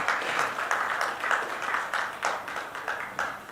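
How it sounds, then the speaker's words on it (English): An event audience breaks into applause for chef Sanjeev Kapoor, a sustained dense clapping from many hands with rhythmic swells, moderately distant and steady for several seconds. "A big round of applause for him"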